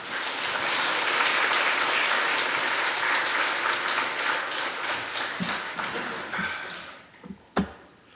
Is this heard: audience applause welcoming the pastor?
yes